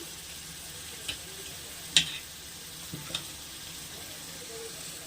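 Curry leaves sizzle in a pan of onion and egg curry, a soft, even frying hiss with a few scattered ticks and clinks from the utensil.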